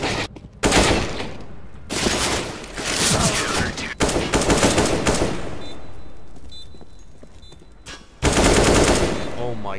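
Rapid bursts of video game gunfire, several sustained rattling volleys separated by short gaps, loud and close, with a voice talking between the bursts.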